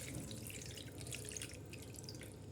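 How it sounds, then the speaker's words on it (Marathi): Cold water pours over hot bitter gourds just taken out of a pressure cooker, making a steady, close trickling and splashing with no talk. "आता ह्या गरम कारल्यामध्ये गार पाणी वतायचं"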